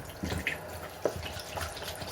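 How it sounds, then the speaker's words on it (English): Tap water running into a sink while someone washes their hands and face, a steady close trickle broken by soft splashes and drips. "Just going to do a quick wash here of my hands and then my face"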